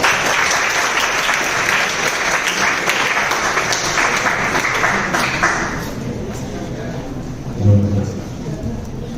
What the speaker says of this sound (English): Can we get a huge round of applause for them also?